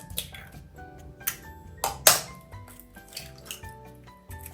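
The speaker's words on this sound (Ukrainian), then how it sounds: "Тепер буду збивати яйця з цукром." Eggs and sugar mixed in a bowl, giving a run of bright clinks and pings of utensil on dish, with a few louder knocks near the middle, fairly close, no talking.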